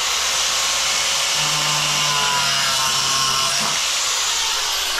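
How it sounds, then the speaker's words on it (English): A handheld angle grinder cuts through bathroom wall sheeting, a loud steady whine with a rough abrasive hiss that holds for the whole stretch, dipping briefly near the end. "I've got to cut a little bit off, so I'll just get my grinder."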